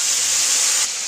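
Paste of ground onion, chili and cumin hits hot oil in a pan with a loud, steady hiss that drops slightly near the end, close by and alone while a Bengali boyal fish curry is cooked.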